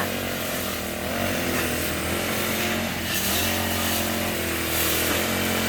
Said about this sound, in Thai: หญ้าข้างบ้านรกค่ะตื่นขึ้นมาตัดหญ้า